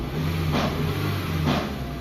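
A Chevrolet car engine runs after a top overhaul for a bent cylinder head. It keeps a steady close-up hum, and two short revs rise about a second apart.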